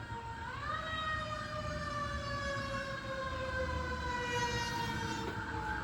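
Emergency vehicle sirens wail as they pass, the tone rising then holding steady and loud over a continuous low traffic rumble, with no one talking.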